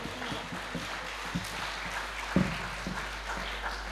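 Audience applause welcoming a poet to the stage at a Punjabi poetry gathering, a steady wash of clapping with scattered sharper claps and a louder burst midway, moderately distant and continuous throughout.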